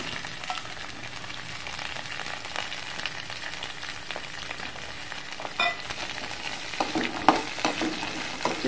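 Green beans frying in oil with peanuts in a pan, a close, steady sizzle with scattered pops and the occasional scrape of stirring, building slightly toward the end.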